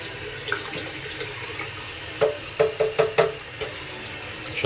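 Tap water runs steadily over PC dust filters being rinsed in a sink, a continuous close hiss with a few brief splashing bursts near the end.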